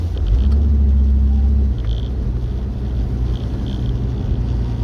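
A four-wheel-drive vehicle grinds up a disused bush track in low range and second gear, its engine a loud, steady low rumble close by that drops slightly in pitch after a couple of seconds and holds on.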